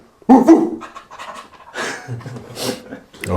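A person imitates a dog panting in a workshop, giving quick breathy huffs in a rough rhythm over about three seconds, close and moderately loud, with no other talk.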